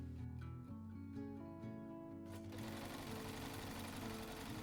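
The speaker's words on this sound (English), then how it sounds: "I was really excited and ready to get sewing." A sewing machine stitches a jacket in a steady, loud, continuous mechanical whir that runs the whole time, with no talking.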